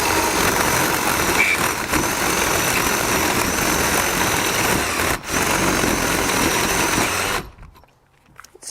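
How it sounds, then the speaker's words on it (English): A power drill bores screw holes in a wooden anvil swage block stand, running in a loud, steady, close whine for about seven seconds with a brief dip partway, then stopping abruptly. "let's go ahead and get this drilled out."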